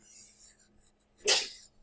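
A single sharp sneeze bursts out close by in a physics lecture after a quiet moment, with faint background noise around it.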